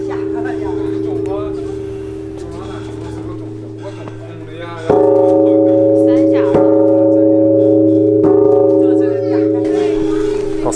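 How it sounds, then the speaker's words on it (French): A large bell in Pingyao, China is struck, and each hit rings out in a loud, sustained metallic tone that lingers. A few strikes come several seconds apart, with a voice talking underneath. "C'est marrant cette histoire de cloche, en fait on tape dessus"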